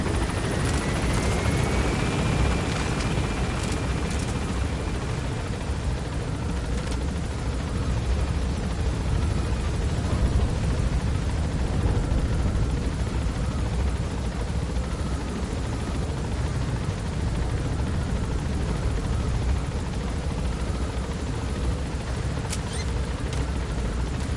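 Helicopter gaining altitude in Metal Gear Solid V, a dense continuous rotor and turbine roar that stays loud and steady throughout, with a faint rising whine early on.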